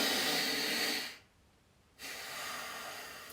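Close, airy exhalations through the nose in a breath-control exercise: a long hissing breath, a brief pause of quiet, then another steady rush of air.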